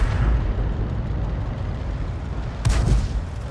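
Heavy artillery shot from a Bat.-Châtillon 155 55 or Hummel self-propelled gun in World of Tanks, a loud booming blast over constant low engine rumble.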